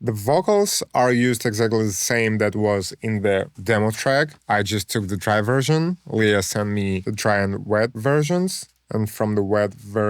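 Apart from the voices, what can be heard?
No distinct noise like a dog, phone or traffic.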